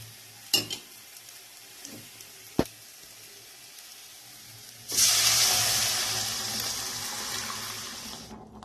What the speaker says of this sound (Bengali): এরপরে এখানে এর মধ্যে মটরগুলো ছেড়ে দেব